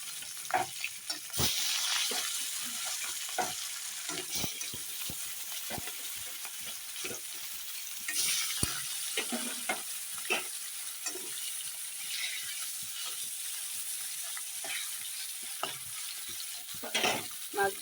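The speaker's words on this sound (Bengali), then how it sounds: "কড়াইতে তেল গরম হয়ে গেছে আমি এখন খুন আস্তে আস্তে মাছগুলো দিয়ে দিই" Rohu fish pieces fry in hot oil in a wok, giving a continuous crackling sizzle dotted with sharp spits and pops throughout, close but fairly quiet, with no talking.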